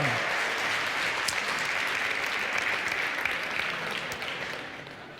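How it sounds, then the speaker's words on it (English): Audience at a hackathon award ceremony applauds the teams, a sustained, full round of clapping that holds steady and tapers slightly toward the end, heard alone without talk. "so big applause to them!"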